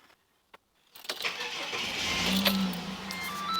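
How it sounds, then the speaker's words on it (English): Ford AU Falcon engine cranking and catching after a short silence and a couple of faint clicks, then settling into a steady, fairly loud idle that runs to the end. "I do have to go start up the car."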